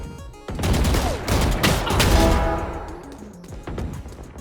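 A burst of rapid gunfire in a shooter video game, dense overlapping shots with a brief pause and another volley, loud and close with no talking.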